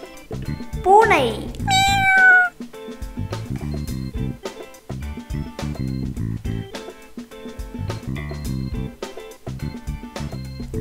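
Two clear cat meows near the start, loud over a cheerful instrumental tune that keeps playing afterward.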